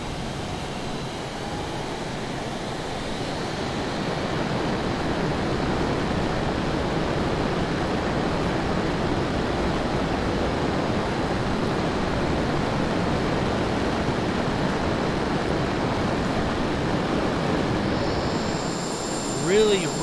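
Sustained broadband jet roar of a MiG-29 taking off at full afterburner in Microsoft Flight Simulator, loud and steady for the whole stretch with no talk over it, easing slightly at the very end.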